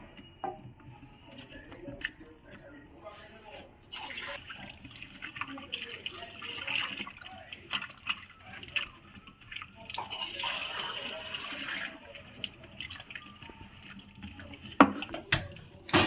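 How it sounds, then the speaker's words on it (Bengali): Cut potatoes are washed under running tap water, the stream splashing and pattering in two main bursts with quieter handling sounds between. "এবার এই আলুগুলো আমি ভালো করে ধুতে হবে"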